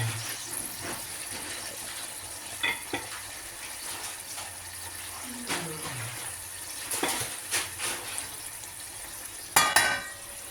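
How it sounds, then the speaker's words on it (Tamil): Boiling water poured into a pan of cooking prawn gravy, a soft trickle and bubbling simmer with scattered clinks and splashes, ending in a brief louder clatter. "இருந்தாலும் கொதிக்கிற தண்ணி கொஞ்சம் ஊற்றுறேன்"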